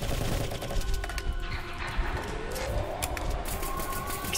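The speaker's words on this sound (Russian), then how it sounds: "Так, подходи, прям стреляй." Rapid gunfire rattles continuously while shooting at a boss in the video game Drake Hollow, dense bursts layered over game noise and a rising tonal sweep, loud and close.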